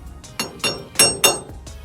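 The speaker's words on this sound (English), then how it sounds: "to help loosen the wheel hub, you're gonna have to tap it a few times" A hammer strikes the wheel hub of a 1998-2002 Honda Accord five times in an uneven rhythm, sharp metallic ringing clanks close by, with no talk.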